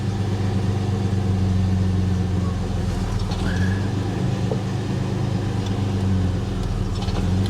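An Audi A6 Avant Quattro's engine idles steadily with the clutch engaged, a continuous low hum and rumble close by with no speech over it.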